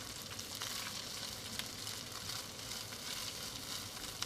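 Stir fry sizzling steadily in olive oil in a pan, a continuous crackling hiss with no talk, fairly quiet and even throughout.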